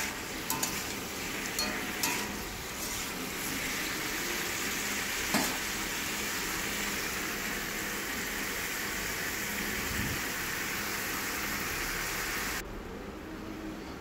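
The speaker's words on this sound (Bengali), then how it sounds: "তারপরে ঢাকনা খুলে সবজিগুলোকে আবার নেড়ে নেবো ভালো করে।" Papaya and mixed vegetables sizzle steadily in a hot pan as they are stirred, a continuous close frying hiss with occasional scrapes, softening slightly near the end.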